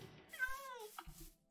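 A cat in the Minecraft video game gives one clear, drawn-out meow with a falling pitch, then a short second cry, close and loud over faint background sound.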